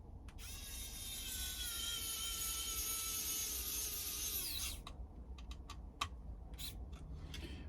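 A small electric screwdriver whirs steadily for several seconds driving tiny screws into an INJORA model body, then stops, followed by a few sharp clicks and light handling taps.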